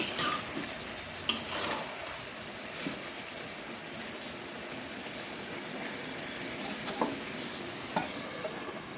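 Chicken pieces braise in their own released water in a pan, giving a steady close-up sizzle. Scraping stirs and occasional sharp clicks cut through the sizzle, with no talking.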